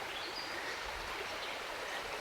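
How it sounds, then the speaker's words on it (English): Stonehouse Brook flowing steadily at a peaceful wooded preserve, a continuous soft rush of water with no other sounds. "which is a nice peaceful spot right here along Stonehouse Brook"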